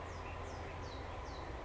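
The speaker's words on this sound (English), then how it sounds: "I can hear the birds chirping." Birds chirp outdoors in a quiet woodland setting, giving four evenly spaced, faint, high descending calls over a low background rumble.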